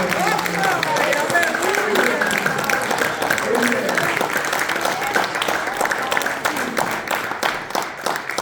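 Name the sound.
congregation applauding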